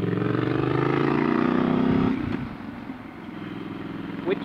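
Triumph Scrambler 1200 motorcycle riding off road, a loud, close engine drone that holds steady, then eases off as the rider rolls the throttle back.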